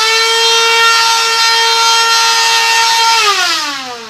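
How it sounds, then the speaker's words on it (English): A household vacuum cleaner winds down with a loud, piercing siren-like whine that holds steady for a few seconds, then drops in pitch as it spins down. "Tempting to use the vacuum, which we have dubbed the siren."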